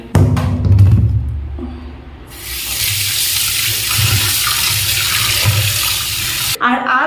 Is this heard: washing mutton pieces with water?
yes